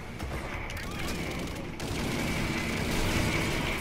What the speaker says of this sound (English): Like, my whole team started shooting at him.